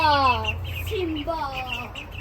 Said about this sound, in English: So we got 6 ducks.